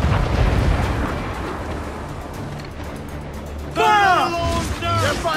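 A cannon blast booms from a pirate ship broadside in Assassin's Creed 4 Black Flag, a loud low rumble over churning sea noise, followed by a sudden burst with crackling debris as a sailor's voice calls out.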